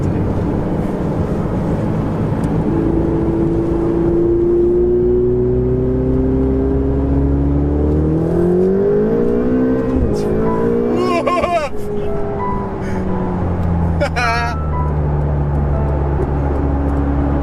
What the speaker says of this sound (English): But damn, I'm driving a 488.